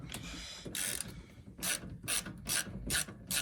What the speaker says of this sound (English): Nice socket set, right?